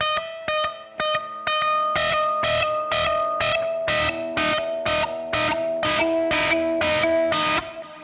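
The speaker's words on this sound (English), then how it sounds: "that's hopefully enough of the stabbing in the shower scene theme music there that people should be able to pick out what movie you're trying to get them to guess" An electric guitar with effects plays the Psycho shower scene horror theme as a string of sharp, repeated high stabs in steady rhythm, loud and close, with no talk.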